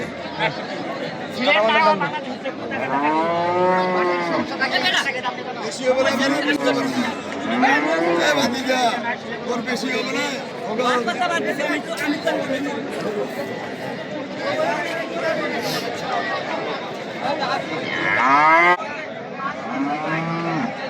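Cows and heifers at a Bangladeshi cattle gathering moo repeatedly, their drawn-out calls rising and falling near and far, with people chatting and a crowd murmuring throughout.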